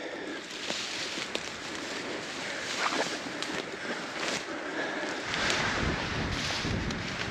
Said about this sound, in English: All right, so the wind has picked up now.